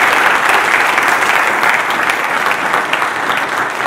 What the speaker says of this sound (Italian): Quindi gli farei un altro applauso a Maurizio Sala